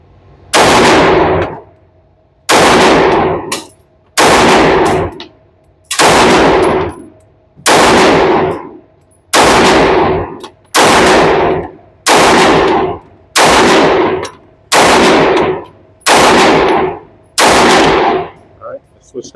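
A Smith & Wesson M&P Metal Carry Comp pistol fires a slow, evenly spaced string of about eleven loud, close gunshots on a range, each sharp crack followed by a short ringing decay.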